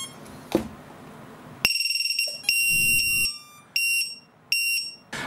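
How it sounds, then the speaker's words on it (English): A piercing Matek lost model alarm buzzer for a flight controller shrieks in loud bursts, a quick stuttering series and then longer sustained tones, stopping and starting abruptly. "taking a closer look at the obnoxious Matek buzzer for your flight controller or maybe as a potential lost model alarm"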